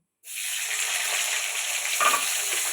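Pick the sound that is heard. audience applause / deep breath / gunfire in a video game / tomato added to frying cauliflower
tomato added to frying cauliflower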